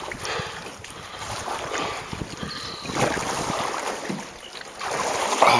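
Gusty wind buffets the microphone outdoors on a creek while a fish trap is being repositioned, a rough, uneven roar with water sloshing and occasional knocks.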